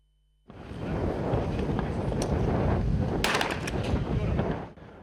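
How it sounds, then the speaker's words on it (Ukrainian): Sustained, dense roar of gunfire from sniper rifles, assault rifles, pistols and pump-action shotguns at a military shooting competition, overlapping shots blurring into a continuous rumble with a few sharper cracks, loud and distant-sounding. "Професійні військові змагались у вправах зі снайперською, штурмовою гвинтівками, пістолетом і помповою рушницею."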